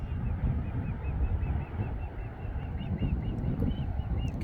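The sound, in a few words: birds calling above a river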